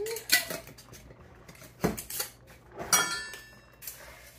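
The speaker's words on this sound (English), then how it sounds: "I'm going to do 1 cup of rice. Stir that all in." Metal spoon scraping and knocking inside a pot as a cup of rice is stirred in for a one-pot kielbasa and rice dish, a few separate clanks and scrapes with quiet gaps between.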